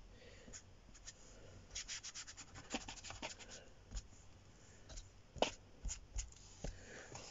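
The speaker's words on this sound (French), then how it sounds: "je vais caresser tout doucement notre papier" Paper for a scrapbook art journal is gently wiped with acrylic paint and gesso, making soft, close, intermittent rubbing and brushing strokes. The strokes come in short clusters with brief pauses between them.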